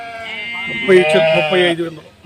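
Several sheep bleat close by, overlapping wavering cries in quick succession, with someone talking underneath.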